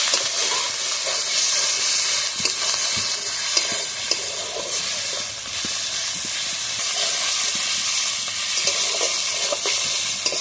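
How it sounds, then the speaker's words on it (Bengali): Chopped tomatoes fry in a pan over onion, ginger and garlic for an egg curry, a steady loud sizzle and hiss with occasional scrapes of stirring, no voices. "টমেটোটা এইভাবে ভালোভাবে ভেজে নেবো।"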